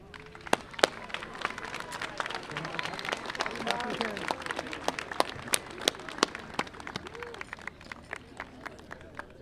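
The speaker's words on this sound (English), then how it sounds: "Class of 2022, please rise and give a thunderous applause to these people who have stood by your side" Scattered, uneven clapping at a high school commencement, with sharp individual claps over a moderate crowd murmur and voices chattering throughout, thinner than a full ovation.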